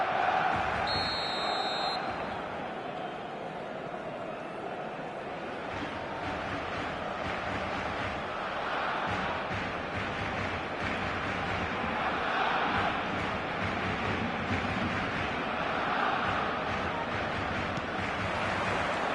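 Stadium crowd in the eFootball 2026 video game on PS5, a steady, dense roar of many voices with wind-like wash holding at an even level throughout, a brief electronic chime near the start.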